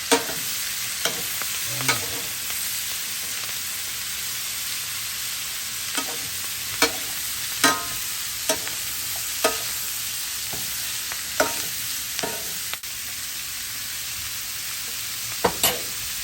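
Cabbage fries with bacon in a pan as a loud, continuous sizzle, with occasional sharp clicks and scrapes of a utensil stirring through it.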